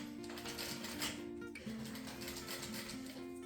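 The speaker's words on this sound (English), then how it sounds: "you're just gonna go ahead and sew it into place" A sewing machine stitches a juice carton purse with a continuous, close mechanical whir and rattle that hums steadily, pausing briefly once before running on.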